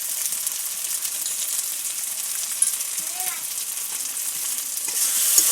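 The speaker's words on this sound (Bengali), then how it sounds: "আবারও ভালো করে কিছুক্ষণ কষিয়ে নেব।" Bhetki fish spice masala with salt and turmeric fries in a pan, a steady hiss broken by a few metallic scrapes and clinks of a spoon stirring, growing slightly louder toward the end.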